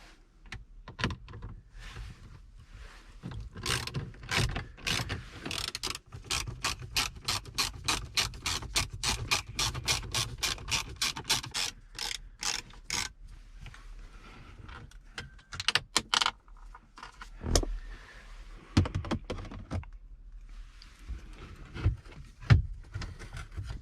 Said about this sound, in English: We got a couple screws to take off here, back in there.